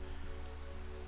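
Steady, even rainfall in Minecraft patters without a break, with a low background hum beneath it and no voices.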